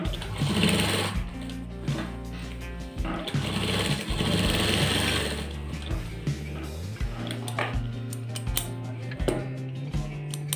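A sewing machine stitches an apple-cut shirt, running in a steady, close, continuous whir with rapid needle clatter and small shifts in speed, heard on its own without talk.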